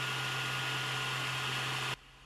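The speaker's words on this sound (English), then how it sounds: "our fan noise will go from sounding like this" A stock Ender-3 3D printer fan whirs with a loud steady hum and airy hiss, constant and close, then abruptly drops to a much quieter level near the end.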